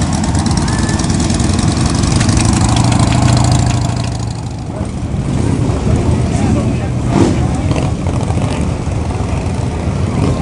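A motorcycle engine idles at the Port Dover Friday the 13th biker rally in Ontario, a loud close rumble that eases off partway through, with crowd noise and voices around it.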